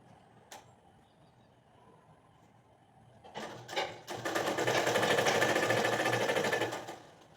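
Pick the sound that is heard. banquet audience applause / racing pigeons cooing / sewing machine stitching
sewing machine stitching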